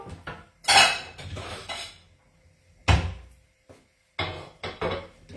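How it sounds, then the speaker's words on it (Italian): Ceramic plates and dishes clatter in a kitchen while one plate is taken from the stack, with several sharp clinks and knocks in separate bursts between short quiet gaps, close and fairly soft. "Allora, prendo un piatto."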